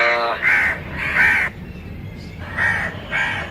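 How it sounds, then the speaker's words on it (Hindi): A crow cawing outdoors, several loud harsh caws in two pairs separated by a short gap, close and clear. "ये स्पेशल कौवा है कोई"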